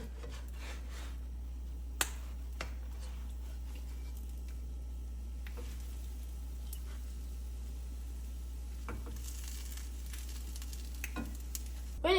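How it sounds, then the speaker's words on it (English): A pancake fries in a pan with a faint, steady sizzle, punctuated by a few sharp clicks and taps. "Now you will flip the pancake."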